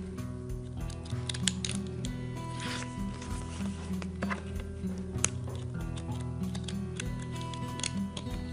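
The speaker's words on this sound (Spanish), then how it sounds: "también lo puedes ir cortando con tus tijeras normales" Small scissors snip paper circles into wavy edges for a party favor craft, producing repeated light clicking and cutting sounds at close range over a quiet background.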